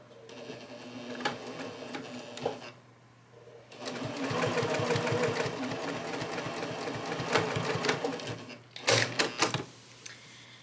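A sewing machine stitches a miniature quilt in close, fast rhythmic bursts, with a short run, a pause, then a long steady whir and a brief final spurt, with handling clicks between.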